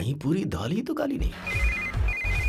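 A telephone ringtone in a Hindi-dubbed South Indian movie trills in two clear electronic bursts after someone speaks, set over a low rhythmic music score.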